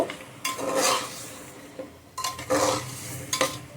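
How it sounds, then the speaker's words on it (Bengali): A utensil scrapes and clinks against a cooking pot while potatoes and spices are stirred in, with bursts of stirring, a faint sizzle between strokes and no talking. "আলুটাও দিয়ে দেব দিয়ে আমি এটা ভালো করে এর সাথে নাড়ব"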